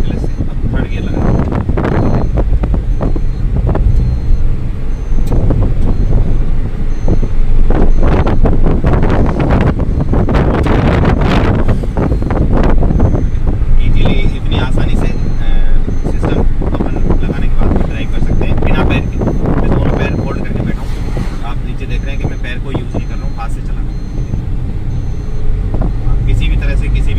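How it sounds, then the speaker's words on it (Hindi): Interior of a hand-operated Maruti Celerio hatchback driving on a road in third gear, with a steady engine and road rumble, wind buffeting, and someone talking throughout. "आप देख रहे हैं कि गाड़ी रोड पे चल रही है"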